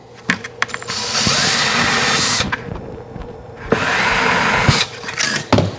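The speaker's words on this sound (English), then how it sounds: "So we're going to drill these holes through." A power drill bores holes through a wooden board for a Halloween coffin build, two long whining runs of the motor close up, separated by a pause with clicks and handling noises.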